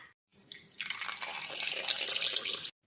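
Milk is poured into a pot in a steady, splashing stream that starts after a brief pause and runs continuously, quiet and close, then stops abruptly.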